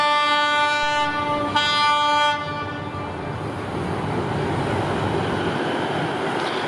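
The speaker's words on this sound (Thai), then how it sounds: "เขาจอดชานชาลาที่1ครับ ขบวน170นะวันนี้ถือว่าตรงเวลาเลย" A locomotive-hauled southern line train with an Alstom locomotive arrives at a station platform in Thailand, sounding a long loud horn blast, then a steady rumble and rolling clatter as it pulls in.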